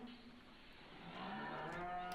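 Cows moo in Farming Simulator 17, a soft, low, drawn-out call that swells toward the end, heard alone and at a distance.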